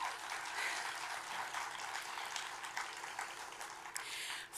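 A nursing pinning ceremony audience applauds clinical instructors with steady, even clapping from a large crowd, continuing unbroken from start to finish.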